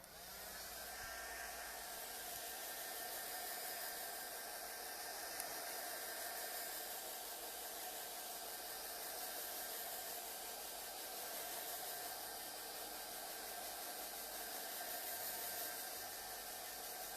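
A hair dryer blows steadily on a painted triple switch plate, a constant airy whoosh with a faint whine that runs unbroken and even in loudness from start to finish.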